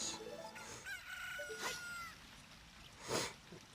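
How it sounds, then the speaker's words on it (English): A chicken in the video game The Legend of Zelda: Ocarina of Time gives a crowing, clucking call, then a louder squawk near the end, heard alone with no talking. "The chicken."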